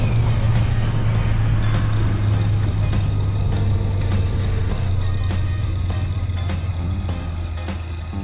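Engine drone of a car in the Watch Dogs game, a steady low hum that holds throughout and eases slightly near the end, with no talk.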